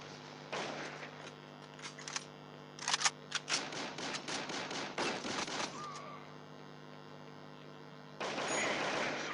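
AK47 gunfire in the FPS video game Crisis Action, fairly faint rapid bursts of shots mixed with single cracks, then a steadier stretch of firing near the end, with no talk.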